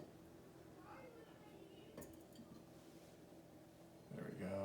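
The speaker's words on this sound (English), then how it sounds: "Or you could put one of these terracotta lids on top." A terracotta lid is set onto a terracotta pot with a single light ceramic clink around the middle, faint against a quiet room, with a bit of soft handling noise afterward.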